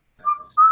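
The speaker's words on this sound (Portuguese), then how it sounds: "Para de assobiar" A person whistles during an online Zoom class, giving two steady, clear tones separated by a short dip, close and fairly loud.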